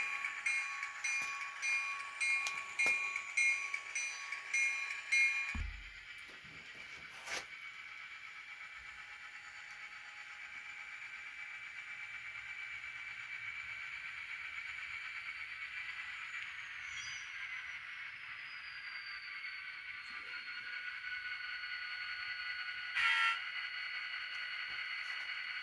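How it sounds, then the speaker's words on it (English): A Kato N scale EMD SD40-2 model locomotive fitted with an ESU LokSound V5 decoder plays a steady diesel engine hum with tonal whine, a faint horn-like tone early on and a brief click, quiet and alone. "EMD SD40-2 with a 58741 board"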